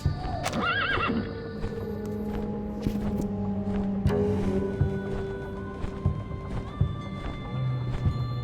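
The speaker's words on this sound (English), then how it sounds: "that's a horse" A video game horse gives a loud, wavering neigh near the start, followed by clip-clopping hooves and scattered clattering over a soft musical background.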